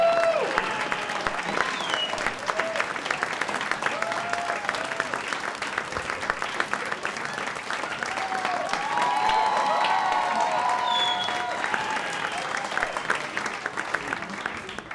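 A comedy club audience applauds a comedian, dense sustained clapping filling the room for the whole stretch, with scattered cheers and whoops rising above it.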